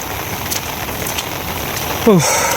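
Heavy rain falls steadily and loudly near a riverbank during a flood, a dense continuous hiss with a brief voice near the end.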